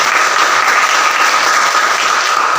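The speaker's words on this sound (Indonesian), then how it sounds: "tepuk tangan untuk kalian semua" A group claps together in loud, sustained applause, filling the whole moment with dense, even clapping.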